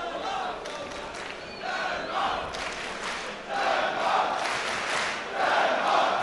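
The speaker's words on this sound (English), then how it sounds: "we can hear the audience shouting Denmark, Denmark" A fight crowd at a DFC cage bout chants in rhythmic waves that swell and repeat, a dense roar of many voices filling the arena.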